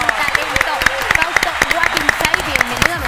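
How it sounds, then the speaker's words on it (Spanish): Studio audience applause welcoming a guest on a television show, loud dense clapping with rhythmic accents running throughout, with voices faintly mixed in. "Lo vamos a recibir con un fuerte aplauso porque sí lo merece"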